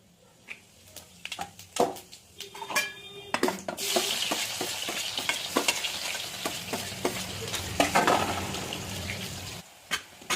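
Cumin sizzles in hot oil in a home kitchen, with a crackling hiss that swells as more goes in, broken by frequent stirring clacks and spoon taps against the pan.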